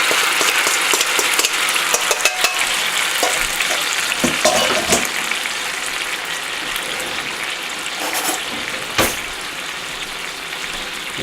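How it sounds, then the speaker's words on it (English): Sauce and pork juices with maple and garlic sizzle steadily in a hot pan on a boat, a continuous crackling hiss with small scraping stirs, close and fairly loud throughout with no voices. "So we're going to cook off our sauce. Put all the good juices together here."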